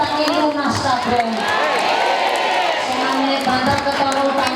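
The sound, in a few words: applause for the organizing committee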